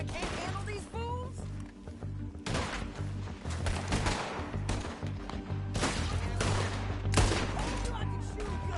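Gunfire in the video game Red Dead Redemption 2 during an outdoor standoff: several sharp, loud shots crack out at irregular intervals over a steady music bed, with characters talking in between.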